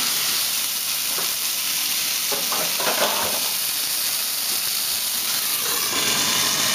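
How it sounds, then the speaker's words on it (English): Wild pork steak searing in a hot pan, a steady broadband sizzle and hiss continuing evenly throughout, with faint stirring or shifting noises and no talking. "So I've seared it on one side."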